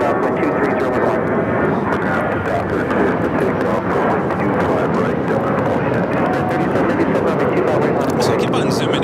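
An airliner takes off from runway 25 right at Los Angeles International Airport, its engines giving a loud, steady roar that fills the whole stretch without letting up.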